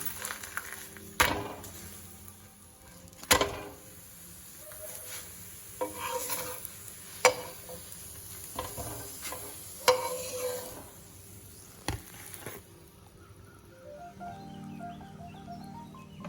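Chapati cooking on a pan for a jackfruit seed gravy meal: soft, steady sizzle with sharp scraping and pressing taps at irregular intervals, close and moderately quiet, with birds faintly audible in the background.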